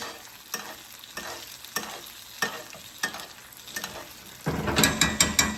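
A ribeye steak sizzles in a hot pan with garlic while being basted, loud frying hiss with rhythmic spoon scrapes and splashes repeating about every half second, swelling louder near the end.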